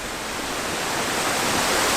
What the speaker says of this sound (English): What an amazing 2-tier waterfall.